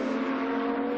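GT2 race cars, a KTM and a Porsche, racing at the Dijon circuit, their engines holding a loud, steady, high-pitched drone with a strong tonal whine throughout the brief moment.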